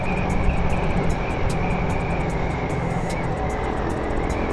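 Motorcycle fitted with a 30mm Koso carburetor, riding at speed, gives a loud, steady engine drone under heavy rushing wind noise, continuous throughout with small bumps.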